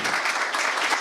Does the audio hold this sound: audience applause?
yes